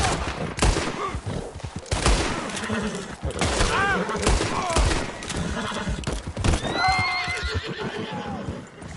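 Gunfire in the video game Red Dead Redemption 2 during a prisoner rescue: repeated sharp shots and volleys crack out amid horse whinnies, galloping hooves and shouted voices in a dense, loud mix.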